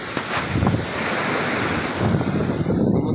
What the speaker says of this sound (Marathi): तुम्ही बघू शकता लाट कशी पायाला टच करत आहे